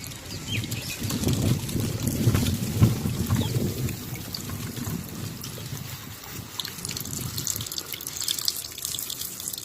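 Water gushes and splashes steadily from a pipe, a continuous rushing flow with dripping and trickling, close by.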